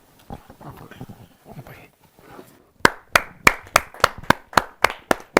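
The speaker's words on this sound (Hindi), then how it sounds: "और जोरदार ताली के साथ" Audience applause at a Hindi kavi sammelan poetry gathering: after a stretch of indistinct murmur, a run of about a dozen sharp, evenly spaced claps rings out loud and close in the second half.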